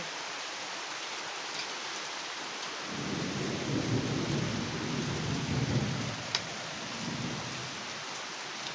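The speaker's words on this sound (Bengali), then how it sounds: "ঝমঝমিয়ে বৃষ্টি একদম" Steady heavy rain hisses throughout, with a deep rumble of thunder swelling in the middle and fading toward the end; no voices.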